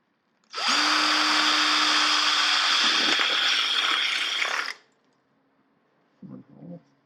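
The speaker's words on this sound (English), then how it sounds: "It's called a stepper bit." A stepper bit drills through an aluminium Corona beer can for a solar air heating panel, one loud continuous whining grind of about four seconds, followed by a couple of brief soft clinks.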